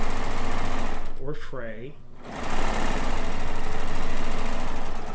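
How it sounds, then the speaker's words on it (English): A 4-thread overlock sewing machine stitching fabric pieces for a Kaffe layer cake quilt, running in a loud steady whir that briefly drops away while someone speaks, then resumes. "by using the 4-thread overlock for the piecing and to go around the edges"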